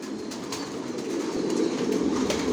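Racer pigeons in a loft coo softly and steadily, with low murmuring calls close by and a few faint flutters or taps over a quiet background.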